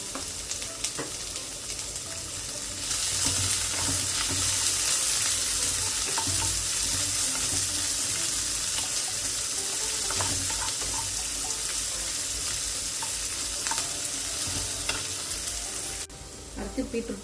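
Chopped onions fry in a pan for beetroot poriyal, a loud continuous sizzle with stirring scrapes and clicks throughout, after quieter kitchen sounds at the start.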